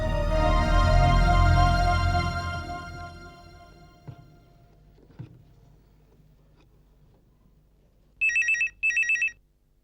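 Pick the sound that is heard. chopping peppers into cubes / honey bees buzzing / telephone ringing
telephone ringing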